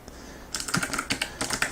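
Typing on a HAVIT HV-KB390L low-profile tenkeyless mechanical keyboard: a quick burst of crisp, close key clicks in an irregular rhythm starts after a brief quiet moment, with no voices.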